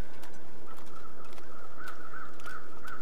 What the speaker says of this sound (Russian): мы, наверное, все тех же ворон слышали